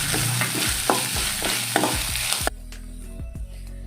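Grated coconut sautéing in a pan, a steady sizzle with a spatula scraping and stirring in regular strokes, close and clear. The frying hiss drops away partway through while the stirring continues, and nobody speaks.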